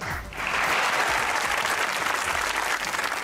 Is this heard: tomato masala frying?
no